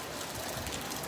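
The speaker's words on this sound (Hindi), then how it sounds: "बारिश हो रही है" Rain falls in a steady wash of noise with soft patters on surfaces, a brief moment with no one talking.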